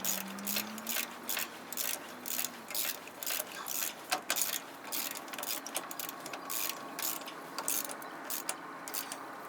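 Ratchet clicking as hub assembly bolts are tightened on a '97 Dodge Ram: quick bursts of close, crisp clicks in irregular runs, fairly quiet, with no talk.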